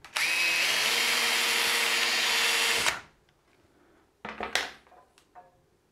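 A power drill with a countersink bit grinds into wood in one loud, steady burst of nearly three seconds, then stops, followed by brief handling clatter and rubbing.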